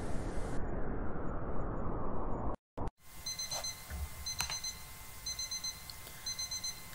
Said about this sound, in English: Turn off the alarm, Jenny, said John in his sleepy, cozy voice.